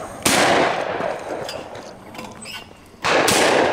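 Shotgun firing at sporting clays in Idaho, two loud close blasts about three seconds apart, each with a sharp onset and a decaying outdoor echo in between.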